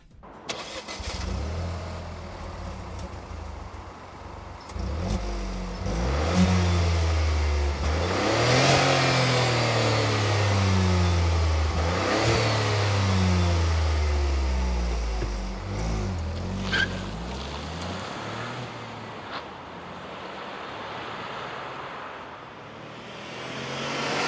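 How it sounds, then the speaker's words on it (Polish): A 2024 Dacia Duster Eco-G 100 LPG with its three-cylinder engine is revved repeatedly, rising and falling through several throttle blips close by, then settling toward idle, with no speech. "No bzyczy sobie ten 3-cylindrowy silniczek. Oj, bzyczy."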